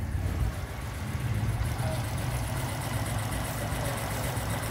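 A Honda Wave Thai 110 motorcycle engine idles steadily with a low, even putter, close by and continuous with no talk over it.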